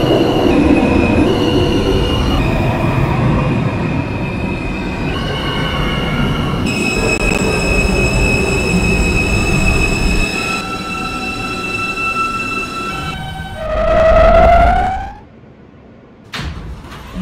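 Simulated R160A-1 subway train on the Manhattan-bound L line in New York, rumbling along steadily with rail noise and tonal hums, then a rising whine as it brakes, wheels squealing before it stops.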